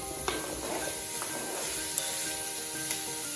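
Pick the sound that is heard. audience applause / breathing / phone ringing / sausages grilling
sausages grilling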